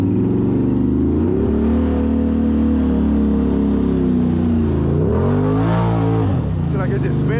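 An ATV engine revs hard and loud close by, its pitch climbing and dipping as the wheels spin without grip at an ATV park, with someone talking over the steady motor noise.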